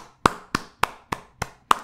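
One person claps six times alone, close and crisp, in an even, unhurried rhythm with short silences between the sharp claps.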